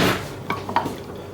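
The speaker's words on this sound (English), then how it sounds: "Just give it a bit of a stir." A spoon stirring a cornmeal mixture in a bowl, with a few light clinks and scrapes against the side following a louder opening rustle, heard close and without speech.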